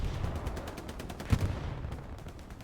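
Distant artillery and gunfire in a Hell Let Loose esports match, a continuous rumbling barrage with one sharper impact near the middle and dense crackle throughout.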